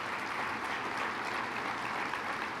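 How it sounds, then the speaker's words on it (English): Steady audience applause at an economic development awards ceremony, a dense, even wash of many hands clapping that holds at the same level throughout, heard from a distance. "let's give them another round of applause"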